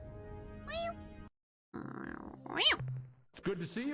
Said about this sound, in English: let me give you a meow